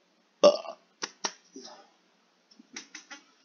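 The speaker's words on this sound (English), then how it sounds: "That's a good old burp for the audience." A person burps during online Fall Guys gameplay, one loud croaky belch followed by a few shorter guttural bursts, close to the microphone against near silence.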